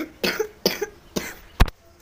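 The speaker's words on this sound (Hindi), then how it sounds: "मेरे को खांसी हो रखी है।" A man coughs three times in quick succession at close range, dry and evenly spaced, followed by a brief thump.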